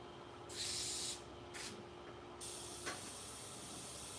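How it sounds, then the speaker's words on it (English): A faint airbrush sprays paint for a pet portrait in short hissing bursts, two brief puffs and then a longer continuous spray, all soft and close. "That airbrush is not going good."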